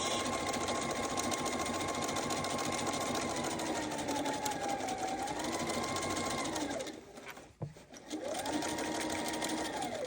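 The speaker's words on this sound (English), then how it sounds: "I'm just running through a top stitch." A sewing machine runs a steady top stitch while a bag is sewn, whirring continuously for about seven seconds, pausing briefly with a soft clunk, then starting up again.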